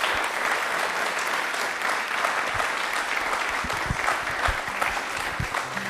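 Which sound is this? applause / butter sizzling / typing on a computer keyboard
applause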